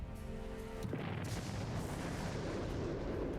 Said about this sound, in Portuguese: A calmaria matinal é abalada por uma explosão imensa após a outra.